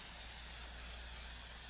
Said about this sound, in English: So I actually fix it with hairspray, and I'm just going to do a real quick pass over it